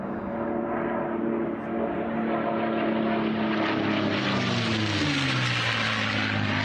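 World War II propeller airplanes, including a P-63 and Mustangs, drone steadily and loudly with a sustained engine roar that shifts pitch as they pass, with no voices.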